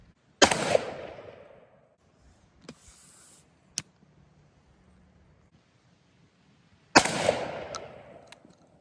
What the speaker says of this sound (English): we'll just see how both of these guns pattern with the cheapest buckshot you can get